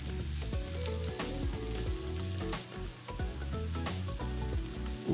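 Cored Royal Gala apple segments fry in a pan alongside pork chops, giving a continuous close sizzle with crackling spits and occasional stirring scrapes.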